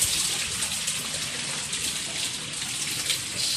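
Heavy rain in Baguio City falls in a thick, hissing wash, steady and close like water gushing onto hard surfaces, with no voices heard.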